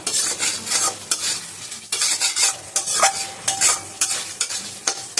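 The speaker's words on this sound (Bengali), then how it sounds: "এবার আমি গ্যাস কমিয়ে আমার মশলা ফুলকপি আলু ভালো মতন কষিয়ে নিয়েছি" Spice paste with cauliflower and potato stirred in a pan over low gas for a katla fish curry, a spoon scraping in steady repeated strokes over a soft sizzle, close and alone without talk.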